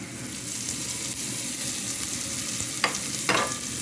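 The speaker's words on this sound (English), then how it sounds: "You just want to saute these a little bit before you add your water." Scallion and onion sautéing in a little oil for Jamaican curry rice: a continuous frying hiss with a couple of brief stirring scrapes near the end, no talking.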